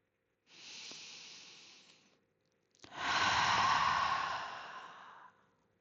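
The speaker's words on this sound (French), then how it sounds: "J'inspire et je sais que j'inspire. J'expire et je sais que j'expire." Slow yoga breathing, with a soft airy inhale of about two seconds, a short pause, then a longer and louder hissing exhale, close and alone.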